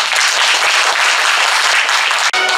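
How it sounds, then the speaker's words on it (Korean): Loud, close applause from an audience at a literary festival award ceremony, dense clapping filling the space and cutting off abruptly near the end. "박수 부탁드리겠습니다."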